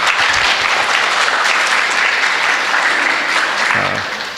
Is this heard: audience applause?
yes